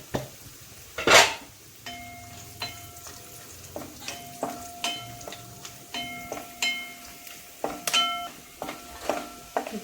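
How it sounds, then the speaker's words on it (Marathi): Almonds and cashews sautéing in a pan: a soft sizzle under repeated sharp clinks and scrapes of a spoon stirring against the metal pan, close and rhythmic, with one louder knock early on. "हे बदाम, काजू ते चांगलं परतून घ्यायचं"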